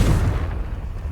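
A Confringo fire spell blasts in Hogwarts Legacy with a single loud, deep boom that decays into a rumbling tail over about a second, and no voices.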